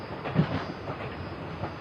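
Passenger train pulling into Safedabad railway station, a steady broadband rumble of rolling stock with faint rhythmic clatter, moderately distant and continuous, no voices.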